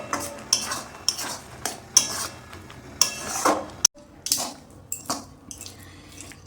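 A spoon stirs mung dal with sugar in a metal pot, giving a series of short clinks and scrapes at an irregular rhythm, close and fairly clear, with faint sizzling in the background.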